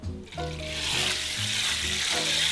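Salt being stirred into a soda ash solution in a container, a close liquid swirling and sloshing with a rising hiss and faint scraping strokes, fairly quiet and continuous.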